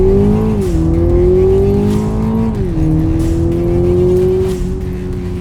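Tuned Toyota Supra 2.0 Turbo accelerating hard up a slope, its engine note climbing loud and close inside the cabin, with two clear dips as it shifts gears before pulling again.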